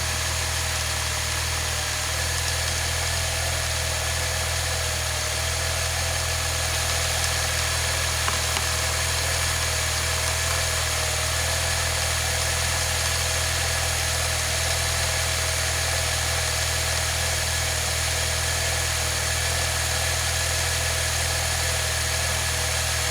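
A Saab car engine runs steadily after a change of spark plugs, with a continuous droning idle and a faint vibration throughout and no talking.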